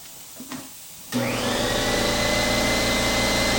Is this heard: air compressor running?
yes